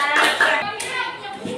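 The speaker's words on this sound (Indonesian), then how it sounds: "berikan tepuk tangan untuk kelompok Jawa" A brief burst of clapping from a small group of schoolchildren in a classroom, lively at first and trailing off within a couple of seconds, with children's voices faintly mixed in.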